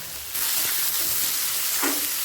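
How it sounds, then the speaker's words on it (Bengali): Steady sizzling of onions frying in a hot pan starts suddenly and continues close and loud, with occasional light clinks of stirring. "পেঁয়াজটা হালকা লাল করে ভেজে নেব"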